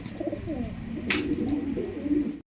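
Lahori pigeons, a breeding pair, at a fancy pigeon farm coo softly in a short run of low, throaty calls over steady background noise, with a brief higher rustle midway.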